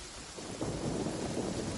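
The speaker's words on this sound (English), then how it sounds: "In the middle of a lightning storm." A thunderstorm with rain in the video game Genshin Impact, a continuous wash of heavy rain with a deep rumble of thunder building in the second half, steady and close with no voices.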